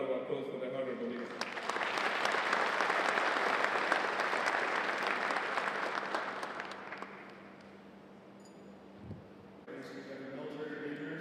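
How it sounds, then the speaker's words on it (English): Conference hall audience at an African land forces summit applauds a government minister: dense clapping swells and holds for several seconds, then fades to a lone thump and voices, with speech before and after. "Another round of applause for the Honorable Minister."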